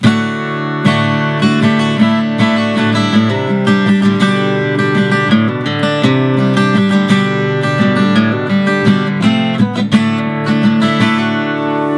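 Electric or acoustic guitar strumming the verse chords of a song, a regular G among them with little riffs between, played alone at steady moderate loudness with rhythmic strums throughout.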